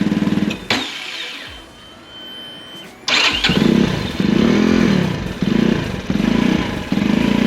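A 2022 Vitacci Titan 250 motorcycle with split dual mufflers starts up and settles into a loud, close, throbbing idle as it warms up, engine pulses pulsing steadily.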